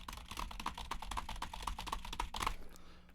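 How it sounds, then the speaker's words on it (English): Loud, fast typing on a computer keyboard recorded through a condenser microphone, a dense run of crisp clicking keystrokes in an uneven rhythm, close and alone with no voices. "Let's do some background keyboard clickety-clacking"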